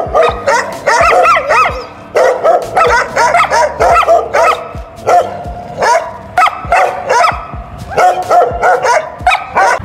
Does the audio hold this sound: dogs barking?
yes